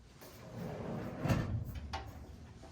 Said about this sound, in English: push to close doors and drawers